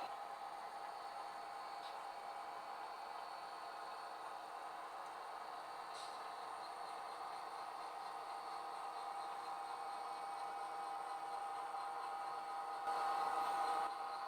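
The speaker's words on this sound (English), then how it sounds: "I'll leave you with some shots of loco number 1216 switching the yard out." Model locomotive number 1216 works a rail yard, giving off a faint, steady running hum with soft rail noise and a brief louder rise near the end, with no talk.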